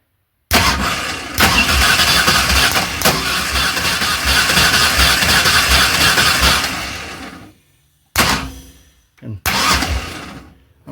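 A small block engine with ignition unplugged spins over on the starter in a long loud cranking burst, followed by two shorter bumps of the starter after a pause.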